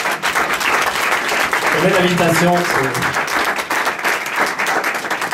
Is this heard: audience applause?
yes